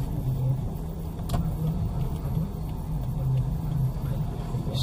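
A car eases into a spot in a busy cafe car park, its engine idling with a low steady hum and a faint tick or click partway through, without speech.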